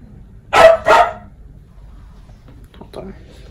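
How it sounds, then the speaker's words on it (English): A pet dog indoors gives two sharp, close barks in quick succession, then a faint whimper follows over a quiet room. "Hold on, I think my dog wants to come in here."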